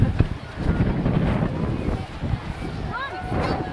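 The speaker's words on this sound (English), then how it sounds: "Is it windy enough for you out here?" Wind rumbles steadily across the microphone at moderate level, with a high voice calling out near the end.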